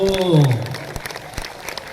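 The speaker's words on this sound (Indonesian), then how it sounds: "tepuk tangan dulu untuk semua ibu-ibu" Scattered clapping from an audience at a humorous Indonesian religious lecture rises as the speaker's voice trails off at the start, continuing as a light patter.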